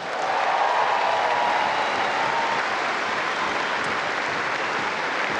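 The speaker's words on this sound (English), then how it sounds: "Save your applause again for the great Ken Rosewall." A large crowd at a tennis trophy presentation, the women's singles ceremony at the Sydney International 2019, applauds steadily for Ken Rosewall, a dense, even wash of clapping that holds at full strength throughout.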